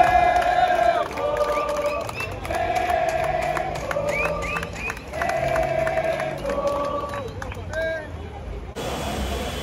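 Flamengo football fans shouting and chanting outside the team hotel in Cuiabá: a large crowd sings in rhythmic, repeating chant phrases, loud and continuous at moderate distance, with some background traffic.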